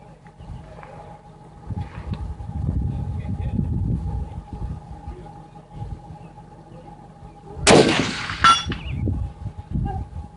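A single sharp metallic ring from an AR10 or AR15 rifle round striking a steel gong at a shooting range, heard once from a distance, with people talking nearby before and after.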